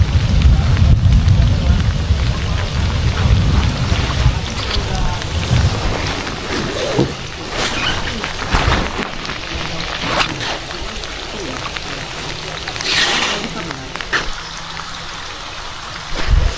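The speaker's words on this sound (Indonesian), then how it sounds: "hujan" Rain falling onto water during a fishing trip, a dense hissing patter with low rumbling at first, fading somewhat and holding steady with occasional splashes and faint voices.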